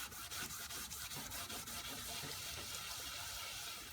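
A foam roller works fiberglass resin in a steady rhythmic back-and-forth, a faint wet rubbing and rasping texture repeating evenly throughout with no voices.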